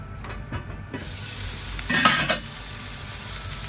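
Food frying in a pan for a packed lunch, a steady sizzle with a few stirring scrapes and a brief louder burst midway, no voices.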